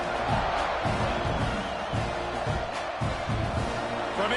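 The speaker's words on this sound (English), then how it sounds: "this crowd is feeling themselves after that last drive" A football stadium crowd roars in a dense, sustained wall of cheering after a scoring drive, loud and continuous with no clear breaks.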